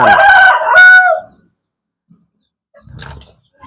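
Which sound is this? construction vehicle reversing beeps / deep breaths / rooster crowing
rooster crowing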